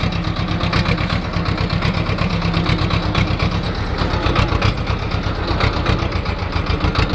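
A tractor engine runs steadily up close, its loud, rapid rhythmic chugging continuing without pause on a farm.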